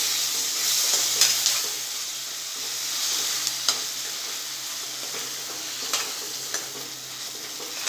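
Onions cooking with fresh cream in a pan, a soft steady sizzle with a few sharp stirring clicks and scrapes, close by and without any voices, as Rajasthani malai pyaz sabji is being made.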